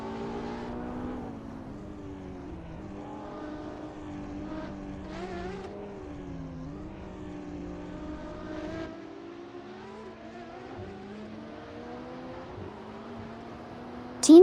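AI supercars racing at Forli Ring in a racing game, a continuous engine drone with shifting pitch as the cars rev and ease off, heard alone with a sudden loud burst at the end.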